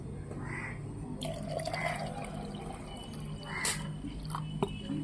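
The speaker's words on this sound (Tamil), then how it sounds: "தண்ணி ஊற்ற போகிறோம் தேவையான அளவு தண்ணி ஊற்றிக்கலாம்" Water is poured into rasam in a home kitchen: faint splashing and trickling in short bursts with a few small clinks, quiet and close.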